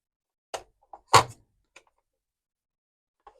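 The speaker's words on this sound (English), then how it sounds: "I don't know if there's a trick for opening the doors." Small plastic door of a 1/18 scale Ghostbusters Ecto-1 model car being worked open by hand, a few sharp isolated clicks and one louder snap, close and dry against silence.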